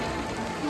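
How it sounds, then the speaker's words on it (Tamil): Heavy rain pours down near Chandragiri Hills in Kathmandu, a dense, loud and continuous patter that fills the whole moment, with no voices over it. "மழை கொட்டுது பட பட பட பட படன்னு."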